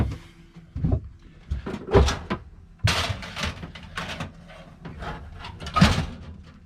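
An oven door in a boat's galley, opened and shut with wooden thumps and clatters as a dish of food is slid inside, several knocks spread over a few seconds with faint handling noise between.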